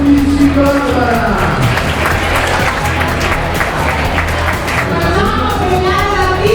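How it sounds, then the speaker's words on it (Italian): At a beauty pageant in Vicenza, an audience applauds loudly and continuously as a contestant is welcomed, with some crowd voices mixed into the clapping. "Accogliamo con un applauso la numero 11 Barbara."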